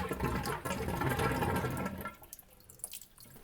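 Water drains out of toilet plumbing during a repair, rushing loudly for about two seconds, then falling to a quieter trickle with scattered drips.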